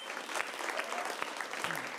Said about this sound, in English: big round of applause to Anthony